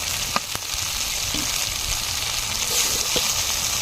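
Marinated boal fish sizzling in hot oil for a jackfruit and fish curry, a loud steady crackle with a few sharp spatters and light clatter near the start.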